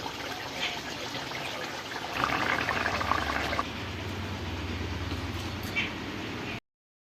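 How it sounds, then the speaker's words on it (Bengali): Tamarind water bubbles at a steady boil in a cooking pot for a Bengali bori fish ambal, a continuous close hiss and gurgle that grows louder for a moment midway before cutting off. "জলটা ফুটছে এই অবস্থায় আমি মাছগুলো দিয়ে দেবো"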